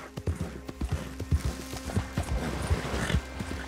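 Horse hooves clip-clop in a steady, quick rhythm in the video game Red Dead Redemption 2, close and clear with a low ambient bed and no talk.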